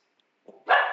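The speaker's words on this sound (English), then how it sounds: "that's my dog right there barking" A pet dog lets out a single sharp bark right after a soft lead-in whine, loud and close, with no talking.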